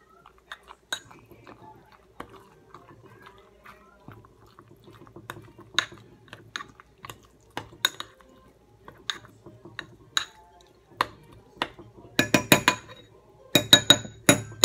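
A utensil stirring carrot in coconut oil inside a glass container, giving sparse light clinks and scrapes that grow into quicker, louder clusters of tapping near the end, close and otherwise quiet.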